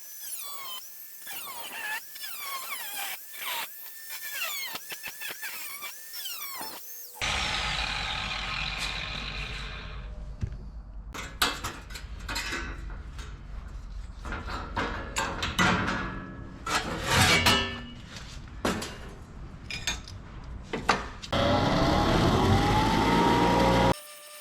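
Cutoff wheel grinding through rusted car body metal during rust repair on a supercharged Pontiac 6000, a loud, sustained harsh whine with bursts and pauses as the wheel bites, preceded by quieter clattering handling noises.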